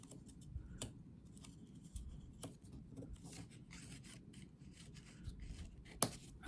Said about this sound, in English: So I'm going to cut these, just give them a little trim, cut up to that score line.